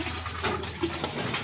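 Pigeons cooing in a loft, soft low throaty coos repeating a few times at close range over a hissy background, with no talking.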